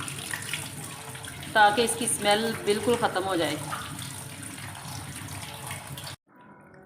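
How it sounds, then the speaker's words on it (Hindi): Cold water gushes and splashes onto grated radish, a steady pouring rush with a voice talking over it, then stopping abruptly near the end. "हमने ठंडा पानी डाल दिया है"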